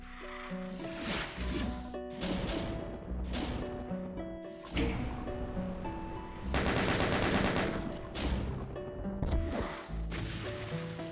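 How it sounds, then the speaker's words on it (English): Rapid gunfire in Doom aimed at lost souls, repeated bursts of punchy shots with short gaps, loud and busy over game music, with no one talking. "I keep shooting the lost souls"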